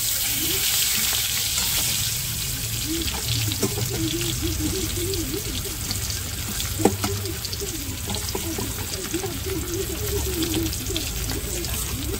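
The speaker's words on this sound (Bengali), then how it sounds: "দেখো কড়াইতে তেলও গরম হয়ে গেছে, এখন আমি ভাজা দেব।" Turmeric- and salt-coated aar fish fries in hot oil in a wok, a loud, continuous close sizzle with faint stirring and scraping, a single sharp clink midway and no talking.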